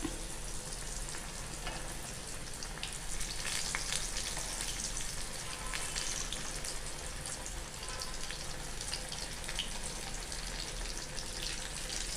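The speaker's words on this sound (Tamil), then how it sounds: "இது நல்லா பொரிஞ்சிருச்சு இது எடுத்துடுறேன்" Elephant foot yam slices and fish frying in hot oil, a dense steady sizzle and crackle running loud and continuous throughout with no voices.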